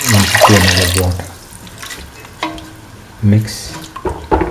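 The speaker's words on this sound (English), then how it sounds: "Pour in another 150 ml of water." Water pours into a lentil and ground coconut stew in a cooking pot, a short splashing burst near the start followed by quieter intermittent sloshes and light clinks, close and fairly loud.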